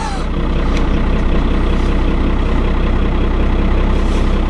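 A heavy 12-valve Cummins diesel dually truck engine idles cold, steadily and loudly up close, a deep continuous rumble with a rough, uneven chug.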